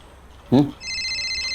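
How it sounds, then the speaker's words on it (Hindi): A telephone bell rings with a steady high electronic trill in an Indian police station setting, following a brief voice. "डीसीपी साहब का फोन।"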